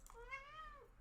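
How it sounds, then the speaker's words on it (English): A single drawn-out cat meow rises and falls over about a second, faint and somewhat distant, under a low steady hum, with no talk. "Excuse the cat."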